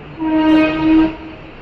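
A Mumbai local train at a station, sounding a loud, sustained two-part horn blast close by that rises, dips briefly and fades.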